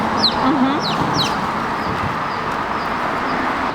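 Chickens cluck and chirp outdoors on the east coast of Oahu, with a few short high calls early on over steady wind and ambient noise, fairly distant and faint.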